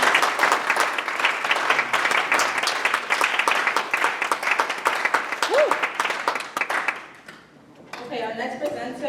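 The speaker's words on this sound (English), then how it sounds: "please give a round of applause to yourselves as well" A student leadership academy ceremony audience gives a round of applause for themselves, dense, loud clapping from a large crowd for about seven seconds before it dies away, then a voice begins speaking.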